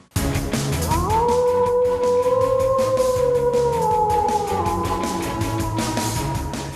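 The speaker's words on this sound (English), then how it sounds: "You can download the Wolf Howl sound you just heard for free" A wolf howl sound effect rises, holds a long sustained wavering tone for several seconds, then slides downward and fades, loud and alone over a faint background.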